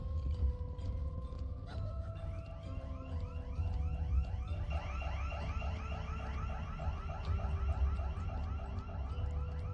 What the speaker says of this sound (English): Gotta love the alarms.